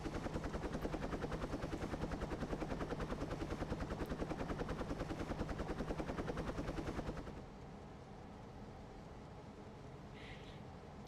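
Helicopter in the Trainz Simulator video game, its rotor chopping in a steady, loud rhythmic thud for about seven seconds before the engine sound abruptly cuts out, leaving a faint low hum.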